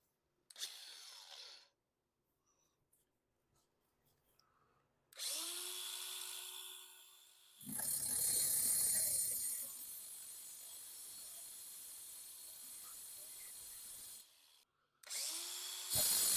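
A power tool scores a used granite countertop in several separate loud grinding bursts of a few seconds each, with short quiet gaps between them.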